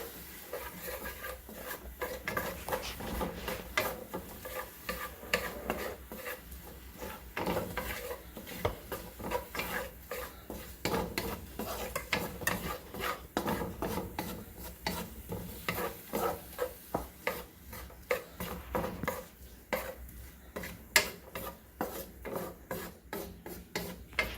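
Garlic and onions for rasta pasta stir and scrape in a pan over low heat, a steady busy rasp of utensil against pan running throughout with a soft sizzle underneath, close and fairly loud, no talking.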